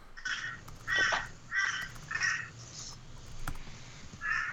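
A bird caws repeatedly during a trivia game, with about six harsh, rasping calls spaced roughly a second apart. They are clear and fairly near, and a faint click is heard among them.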